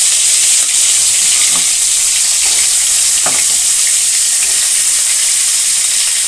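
Pointed gourd pieces fry in hot mustard oil, a loud, steady, close-up sizzle with a few faint stirring knocks and no talking.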